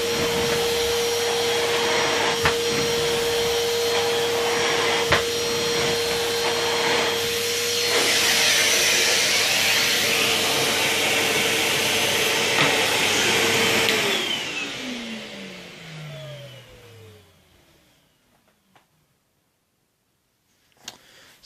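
Numatic Henry HVR200 vacuum cleaner running with a loud, steady motor whine and airflow rush, then switched off so the pitch slides down and spins out to near silence, followed by a couple of faint knocks.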